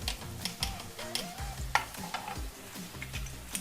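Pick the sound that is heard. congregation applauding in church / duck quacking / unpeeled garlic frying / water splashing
unpeeled garlic frying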